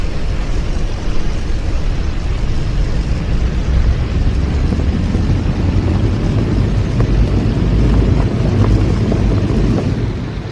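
A warplane's engine in the World of Warplanes video game, running at increased power as a steady, loud, broadband roar that holds without pause.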